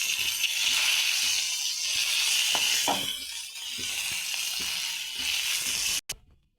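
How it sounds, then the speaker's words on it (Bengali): Bombay duck (lote) fish fry in hot oil in a kadai, a steady loud sizzle with crackles throughout that cuts off suddenly near the end. "লোটে মাছটা আমার ভাজা হয়ে গেছে,"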